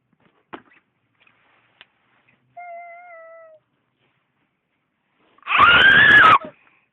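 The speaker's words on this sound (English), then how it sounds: "Why are you screaming so loudly when there's no one to think about it?" A loud, shrill scream from a girl in a snowy setting bursts out near the end after quiet moments with a short wavering tone, harsh and close.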